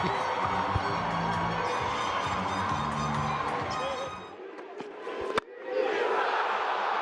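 A cricket stadium crowd roars and cheers loudly after a third-umpire run-out decision, a dense, sustained wall of noise with horns and whoops that drops briefly before swelling again.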